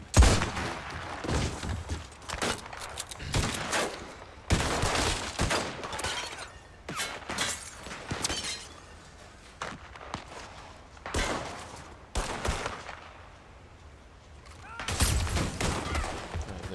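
Gunshots ring out in the video game Red Dead Online, a long volley of sharp reports and scattered single shots, some loud and close, others quieter, with brief lulls between bursts.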